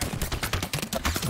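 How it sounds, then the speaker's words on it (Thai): Rapid gunfire in a video game shootout, a dense run of sharp shots crackling in quick succession, loud and close throughout the short burst. "ยิงกันใหญ่เลย"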